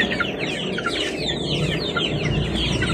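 Flock of large chickens clucking busily at feeding time, overlapping close clucks and chatter in a continuous noisy stream, with no voices.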